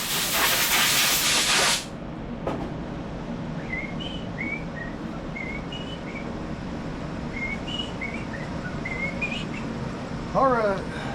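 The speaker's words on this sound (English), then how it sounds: "I'm going to blow the top of this tank off." A short loud blast of compressed air hisses at the start, cleaning dust off the tank of a Gravely ZTX 42-inch zero-turn mower, then cuts off, leaving a quieter background with faint chirping tones.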